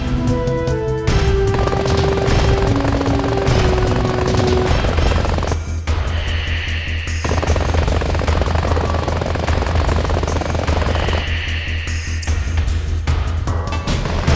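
Loud, sustained gunfire from the mech video game Front Mission 4, with heavier bursts and a whirring, helicopter-like roar blending into a constant battle din.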